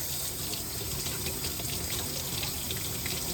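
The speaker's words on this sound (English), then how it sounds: "When you're washing the eggs, there's nothing being used other than water that is the same temperature of the egg that was collected" A sink faucet runs steadily while farm-raised eggs are washed under the stream, a close, continuous gush of water with faint splashing.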